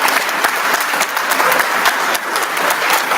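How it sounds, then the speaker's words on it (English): An audience at a motorcycle club awards gathering gives a round of applause for a ride captain, loud, close and dense, sustained without a break from start to finish. "A big round of applause for Jim."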